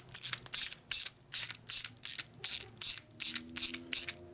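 Ratchet wrench driving a bolt into an S&S 113 cubic inch Evo Harley motor during a belt drive transmission repair, a close, loud run of about ten evenly spaced clicking bursts with no talk.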